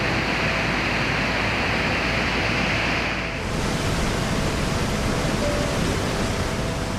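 A waterfall after monsoon rain in Rajasthan's Aravalli hills gives a steady, loud, broadband rush of water. It runs unbroken for about seven seconds with no voices.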